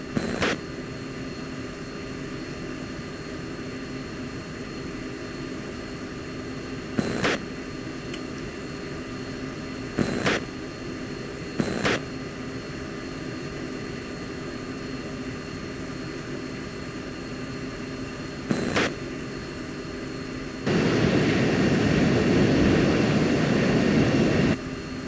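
A jet aircraft taxiing in the Falcon BMS flight simulator gives a steady engine roar, broken by a few short radio clicks and a louder rushing surge near the end.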